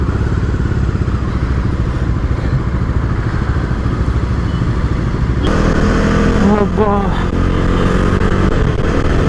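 Bajaj Dominar 250 motorcycle cruising on the road, a steady loud engine drone with wind rush throughout, growing slightly rougher and louder partway through as the ride continues, with a voice speaking over it.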